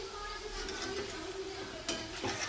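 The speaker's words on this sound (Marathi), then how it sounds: "हे झालं चिकन तळणं काढून घेऊया आपण आता" Pieces of chicken fry in hot oil in a pan for a kasturi methi chilli chicken dish, giving a steady close sizzle with stirring and a few sharp clinks, and no one speaking.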